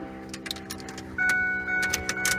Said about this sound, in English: Turn the ignition on.